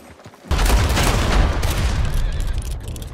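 A rapid fusillade of gunshots from a multiplayer western shooter game, a dense burst of loud cracks and booms that bursts in after a brief quiet moment and keeps rolling for the rest of the clip.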